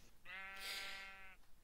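A sheep in a video game gives a single short, clear bleat lasting about a second, quiet and alone.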